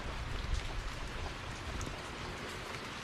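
Steady rain falls, a soft continuous hiss of drops on surfaces with no voices or other sounds.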